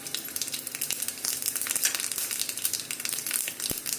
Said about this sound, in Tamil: ஆயில் சூடானதுக்கப்புறம் கடுகு, உளுத்தம் பருப்பு, ஒரு 2 காஞ்ச மிளகாய் போட்டு நல்லா தாளிச்சிக்கலாம்